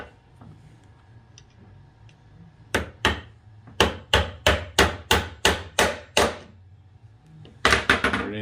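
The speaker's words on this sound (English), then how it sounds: "That's the side you hammer your roll pin in through." A hammer strikes a roll pin into a metal anti-blowup oilfield tool, with two early taps, then a steady run of about eight sharp, close metallic blows, followed by a quick cluster of hits at the end.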